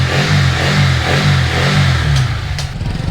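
A freshly rebuilt race-prepped motorbike engine revs loudly nearby in repeated throaty pulses, then eases back toward a rough idle.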